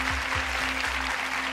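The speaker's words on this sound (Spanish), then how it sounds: "Le damos un fuerte aplauso a Leonor." A theatre audience at a talent show claps in a dense, steady burst of applause that lasts the whole short stretch, with a low hum underneath.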